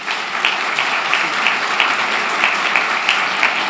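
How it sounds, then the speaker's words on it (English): Steady applause from an audience at a political breakfast forum, dense continuous clapping with a few sharper claps standing out, held at an even level throughout. "Please give yourselves a round of applause."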